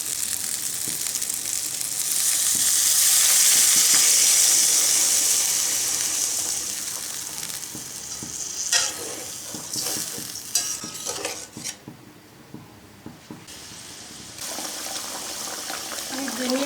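Pointed gourd and spices simmer in a pan just after water is added, giving a loud, close bubbling sizzle with scraping and clanking as the mixture is stirred, continuing throughout with a few sharper utensil knocks.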